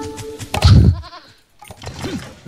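Goats bleat in a strategy video game, with a couple of short, close bleats, one loud near the start and a fainter one near the end, and no talk over them.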